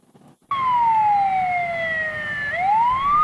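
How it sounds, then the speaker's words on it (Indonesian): A fire engine siren cuts in suddenly and loudly on a road in South Kalimantan, Indonesia, its wail sliding down in pitch, then sweeping back up. "Raungan sirene mobil pemadam kebakaran memecah keheningan"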